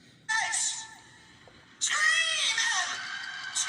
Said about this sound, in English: There's a scream in the background there.